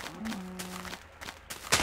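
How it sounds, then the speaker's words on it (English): A cow in the Minecraft video game gives a single drawn-out low moo near the start, followed by quieter game noise and a brief sharp click at the end. "Come here, cow."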